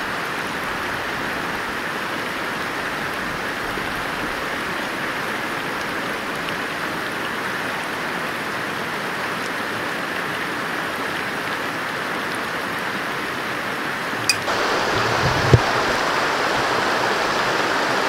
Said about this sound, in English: We're gonna listen to the beautiful river